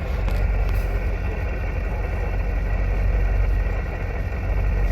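A truck engine idles at a steady pitch, giving a continuous low rumble that stays close and even throughout, with no voices over it.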